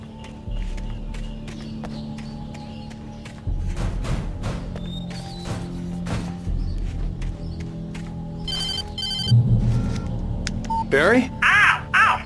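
A telephone rings in the video game Alan Wake, a bright repeating electronic ring that comes in short bursts late on, over a low ambient game backdrop with footsteps and scattered noises.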